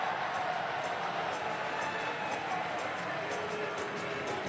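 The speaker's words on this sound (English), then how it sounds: "Crowd appreciating the effort." A stadium crowd at a Tampa Bay Rowdies versus Miami FC soccer match gives a steady, broad wash of applause and cheering, moderately loud and distant-sounding, with a commentator's voice faintly underneath.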